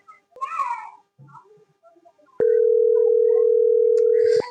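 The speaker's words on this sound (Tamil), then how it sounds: "ஃபோன் கூட எடுக்க மாட்டேறான்" Phone ringback tone on an unanswered call: a steady electronic tone starts abruptly and holds for about two seconds, clear and close, after a short stretch of faint voices and a brief high cry.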